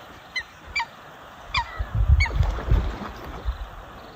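Wetland birds in rural China, with a few sharp honking calls spaced apart early on, then a louder cluster of goose-like honks and low rumbling in the middle, fairly close and alone without talk.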